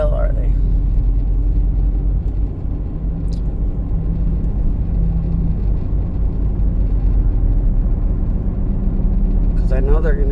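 A car being driven, heard from inside as a constant loud low rumble of engine and road noise, steady for the whole stretch, with faint sounds above it.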